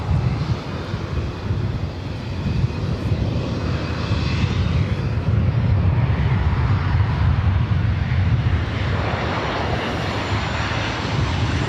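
An EVA Air Boeing 777-300ER arriving from Taipei at LAX makes a steady, loud, broadband engine roar that holds throughout with no break and no voices.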